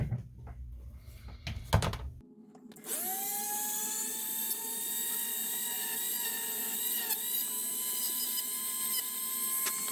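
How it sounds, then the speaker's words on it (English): Small high-pitched drill whines steadily while boring a hole in an Enterprise B model build, starting after a few brief handling knocks and running close and continuous to the end. "Just need to drill the hole."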